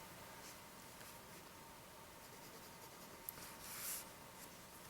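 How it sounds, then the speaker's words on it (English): Conklin Coronet fountain pen with a broad nib writing on paper, a faint, soft, continuous scratchy glide heard up close over steady background hiss, with one brief stroke slightly louder near the end. "This broad nib definitely lays down a good amount of ink. Just glides across the page."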